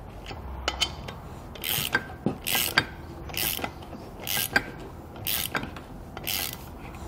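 Ratchet wrench with a 9/16 socket tightening flange nuts while fitting Firestone Ride-Rite air helper springs on a vehicle, giving short repeated clicking strokes in an irregular rhythm, close and clear with no talking.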